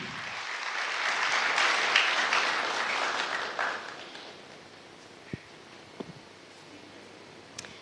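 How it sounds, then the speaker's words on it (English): Crowd applause at a strategic plan launch event, a dense wash of clapping that swells for about three seconds, then thins out to a few scattered claps. "A round of applause tafadhali."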